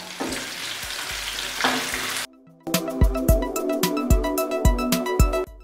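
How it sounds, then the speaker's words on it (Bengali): Onions frying on high flame for chilli paneer, a loud steady sizzle that cuts out briefly, then returns with repeated rhythmic scraping and knocking of a spatula stirring in the pan. "পেঁয়াজগুলো আমরা বেশি ভাজবো না, খুব সামান্য ভাজবো"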